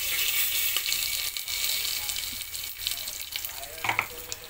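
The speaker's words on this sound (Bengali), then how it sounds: "শুকনো লঙ্কা ফোড়ন দিয়ে দিলাম, কিছুটা গোটা জিরে ফোড়ন দিয়ে দিলাম, একটা তেজপাতা দিয়ে দিলাম" Dried red chillies, whole cumin and a bay leaf sizzle loudly in hot oil, a dense steady crackle close up with a few sharper pops and no voices.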